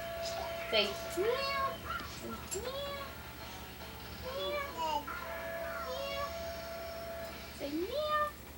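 A voice imitating a cat, repeating high, sliding meows several times over a quiet indoor background, with other voices talking softly in between.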